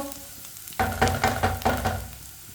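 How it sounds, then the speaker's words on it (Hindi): Onion and green chili frying in a pan, with rhythmic sizzling bursts from stirring after a quiet start, close and moderately loud, no talking. "एक मिनट के लिए पका लिया मैंने प्याज और सब्ज़ मिर्च को।"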